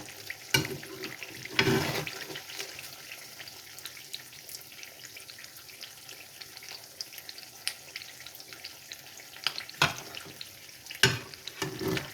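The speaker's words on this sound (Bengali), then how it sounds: "সমোসাগুলো ভাজা হয়ে গেছে এখন আমি এগুলো উঠিয়ে নেবো" Beef samosas fry in hot oil with a continuous crackling sizzle, broken by a few louder clattering stirs and scrapes as pieces are moved and lifted out.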